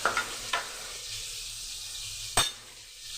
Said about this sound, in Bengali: এবার আমি ভালো করে আলুটাও ভেজে নেবো